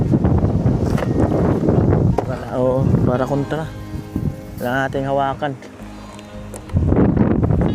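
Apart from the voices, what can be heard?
strong wind blowing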